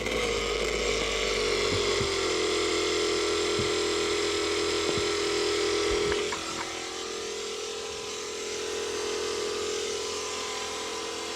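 A 12-volt electric pump circulating diesel through filters aboard a sailboat hums with a steady buzzing whine, shifting to a lower, quieter drone about halfway through, with faint clicks and no voices.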